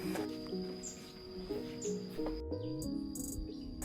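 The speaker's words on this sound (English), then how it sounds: "with no music, just the sounds of cicadas, birds, and the calm river" Birds chirp and tweet in short bursts over a steady high cicada drone at a cafe beside the Mekong River in Laos, with a faint low rumble in the background.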